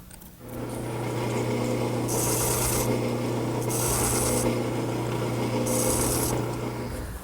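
Wood lathe spinning a chestnut desk part at slow speed, a continuous low hum with rubbing scrapes rising in three separate bursts as a tool touches the turning wood.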